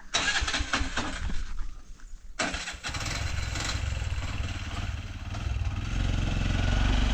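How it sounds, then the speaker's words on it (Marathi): A vehicle engine runs close by and loud as the vehicle arrives, a steady rough drone that briefly dips and then holds strong throughout. "शुभमची गाडी येत आहे."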